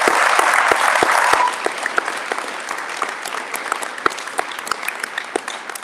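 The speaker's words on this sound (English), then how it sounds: "So let's express our appreciation with a round of applause." Audience applause at a district state-of-the-district gathering held indoors, a dense burst of clapping that swells for about a second and a half, then thins into scattered, lighter claps that continue steadily to the end.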